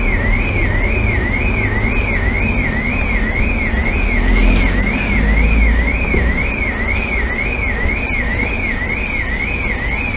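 A car alarm wails continuously in a fast, regular up-and-down siren pattern, loud and steady over low background rumble for the whole stretch.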